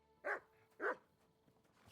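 A dog in the medieval open-world game Kingdom Come: Deliverance 2 gives two short, mid-pitched barks about half a second apart, fairly close, over a quiet low background hum.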